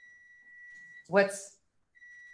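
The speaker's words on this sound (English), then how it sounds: "don't know why the oven's beeping" A thin, steady high-pitched electronic beep tone from an oven runs in the background, broken briefly while a person speaks over it.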